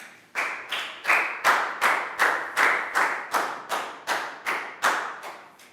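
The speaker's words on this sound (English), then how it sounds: "Big round of applause for Lakau." A Year 3 English class claps in unison, about a dozen loud, evenly spaced claps in a steady rhythm with nothing else heard.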